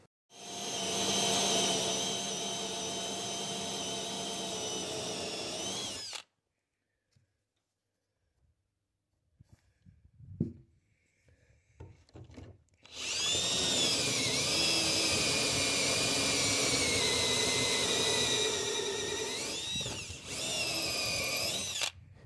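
A power drill fitted with a DeWalt cobalt bit bores into salvaged live oak hardwood, a loud whining spin for several seconds, a quiet pause with a few clicks and knocks, then a second long, steady burst of drilling.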